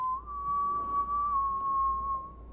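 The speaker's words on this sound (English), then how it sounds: "Why is he whistling?" A game character in Dishonored 2 whistles a steady, sustained tune close by, holding a long clear note with slight pitch wavers over low background ambience.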